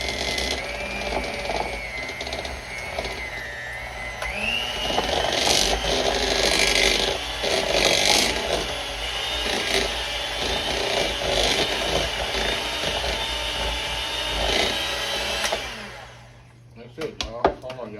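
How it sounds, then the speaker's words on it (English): Electric hand mixer whirring through butter mixed with freshly chopped thyme, parsley and rosemary, a steady buzzing drone that shifts pitch as the beaters work, then cuts off near the end while a person talks over it. "We're gonna hit it with this mixer."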